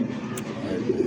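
Caged pigeons, a mix of giribaj, racer, satin and Bombay breeds, give a soft, low cooing that stays steady and close for about a second, with a brief sharper chirp partway through.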